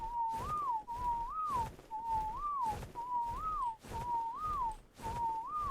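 Passive whistle command in ARK: Survival Evolved: a repeated rising-and-falling whistled tone, six evenly spaced calls about once per second, clear and steady over low game ambience.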